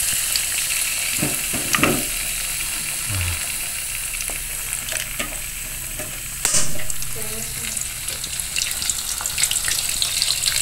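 Tomatoes hit a hot pan of fragrant garlic and salted fish, setting off a steady, close sizzle of frying with stirring scrapes and occasional clinks over a continuous hiss.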